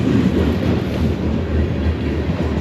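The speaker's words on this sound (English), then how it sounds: "This is a coal train" A long coal train rumbles across the Blackhawk Bridge, a loud, steady roar of rolling wagons with a low rhythmic wheel beat, close by and continuous.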